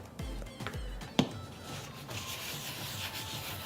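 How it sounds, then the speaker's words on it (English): Oil is rubbed by hand over a pan, covering the handle, lip and bottom, making faint, close rubbing strokes with one sharp knock partway through, with no talk. "Really want to make sure that every inch of this pan is covered with oil."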